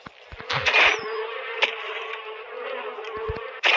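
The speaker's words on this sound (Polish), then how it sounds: "Aj, mucha." A steady buzz of a fly in the video game ARK: Survival Evolved drones for several seconds, fairly close, with a few brief clicks and thumps scattered over it.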